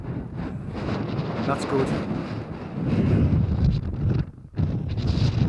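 Strong wind gusts across a snowy Lake District fell, battering the microphone with a loud, rumbling roar that surges and briefly dips before returning. A person speaks briefly over the buffeting.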